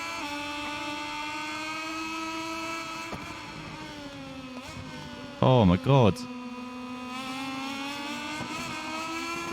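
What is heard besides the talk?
motorcycle engine revving and downshifting, MotoGP 21 video game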